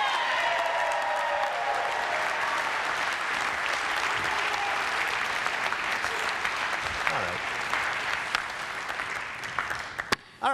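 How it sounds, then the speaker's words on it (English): A studio audience at a comedy show claps loudly and steadily for about ten seconds, the applause thinning toward the end with a few whoops. "so can you clap for me right now?"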